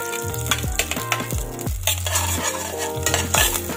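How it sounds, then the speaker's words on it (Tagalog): Garlic fries in a pan as the first step of a Filipino lugaw (arroz caldo), with a steady sizzle and repeated scraping stirs of a utensil against the pan, over faint tonal background sound. "Yan, unahin ang bawang."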